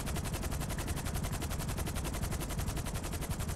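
A combat MG machine gun fires in Grand Theft Auto V as one continuous, loud, rapid burst of evenly spaced shots that fills the whole stretch without pause.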